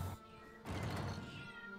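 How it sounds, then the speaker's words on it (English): A house cat meows close by, one short call at the start followed by a louder, longer burst of cat vocalizing, with no talk over it. "There's the cat."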